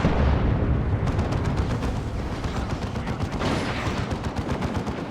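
D cannon shot from a tank in Warhammer 40,000: Dawn of War 2 video game: a loud booming blast opening a dense, rumbling battle din of repeated heavy gunfire and explosions.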